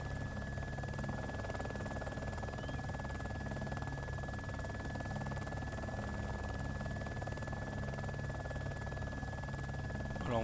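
Helicopter in a flight simulator game, a steady droning rotor and engine hum that stays constant and fairly loud throughout, with no talking.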